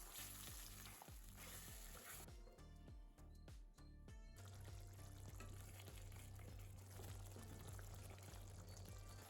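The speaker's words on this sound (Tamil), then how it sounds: "கூடவே 1/2 கப் தண்ணி சேர்த்து மீடியம் ஃப்ளேம்லேயே குக் பண்ணலாம்." Garlic and chilli chutney with water added cooks in a pan on the stove over a medium flame, sizzling and bubbling steadily up close, with a brief stirring scrape partway through.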